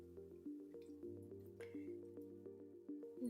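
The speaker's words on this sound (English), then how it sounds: "10 drops of water" Ten drops of water dripped one at a time onto leftover paint, a series of soft, close plinking drips in a loose, even rhythm over a steady low tonal hum.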